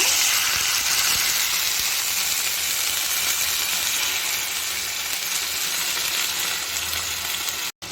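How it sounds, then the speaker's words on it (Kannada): A semolina and milk mixture hits hot melted sugar and sizzles loudly and steadily, a broad continuous hiss that holds for several seconds and cuts off near the end. "ಈಗ ನಾವಿಲ್ಲಿ ನಾವಿಲ್ಲಿ ಮಿಕ್ಸ್ ಮಾಡಿ ಇಟ್ಕೊಂಡಿದ್ವಲ್ಲ ರವೆ ಮತ್ತು ಹಾಲನ್ನ ಅದನ್ನು ಇದಕ್ಕೆ ಸೇರಿಸ್ಕೊಳ್ಳೋಣ"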